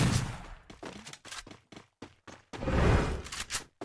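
Rapid bursts of gunfire from a shooter video game where a MAG-7 shotgun challenge is being played, loud volleys with short gaps, then a longer sustained barrage near the end.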